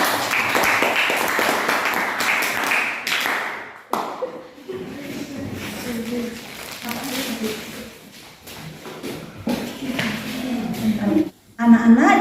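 Children clap their hands in a classroom in a lively, sustained round for several seconds. Then a teacher and the children talk over faint taps and room noise.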